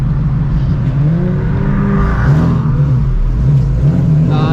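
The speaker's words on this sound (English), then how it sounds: "Oh, he did a little acceleration." A car pulling away hard from a traffic light, its engine note climbing in pitch, loud and close over a continuous road and cabin rumble.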